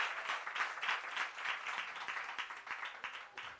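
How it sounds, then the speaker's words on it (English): Workshop and expo crowd applauds the speaker Khaya, a lively, fluttering burst of many hands clapping that swells and dips across several seconds at moderate loudness. "Round of applause for Khaya."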